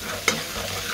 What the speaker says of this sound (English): Just give it a quick mix.